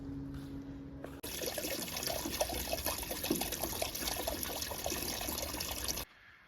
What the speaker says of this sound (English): Okay, rainstorm, 4 inches of rain.